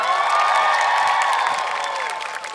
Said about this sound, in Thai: ขอเสียงปรบมือให้กับคุณสถิตดังๆ หน่อยครั